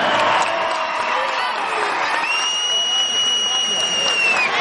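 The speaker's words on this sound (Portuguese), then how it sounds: "Uma grande salva de palmas então para Maria Correia." Crowd at a 2011 gymnastics gala clapping and cheering for a tumbling athlete being honoured, a steady wash of applause over the full clip, with a sustained whistle-like tone joining midway.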